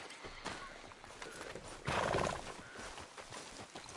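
A horse in the video game Red Dead Redemption 2 clip-clops along steadily, then lets out a loud whinny midway before the rhythmic hoofbeats continue alongside ambient game sound.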